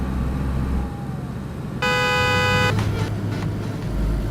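A car in a survival shooter game rumbles along nearby with a steady low engine drone, and a sustained horn blast cuts in for about a second partway through.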